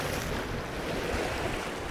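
Strong coastal wind blows steadily as broadband roaring buffets the microphone, with surf-like rushing underneath; loud and continuous, with no talking.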